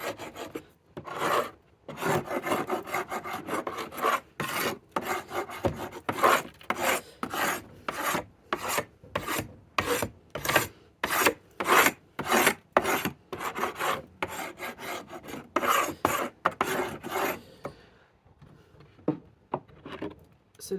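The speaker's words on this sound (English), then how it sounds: "Now I'm just going to scrape the top of these." Wax and propolis being scraped off the top bars of beehive frames, a long run of close, rhythmic rasping strokes with short pauses between them.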